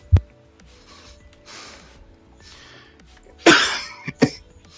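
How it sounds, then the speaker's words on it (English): A person with a lingering two-month cough lets out a sharp, close cough near the start, then after a quiet stretch a louder burst of harsh coughing with a couple of short follow-up hacks. "I've had this cough for like 2 months."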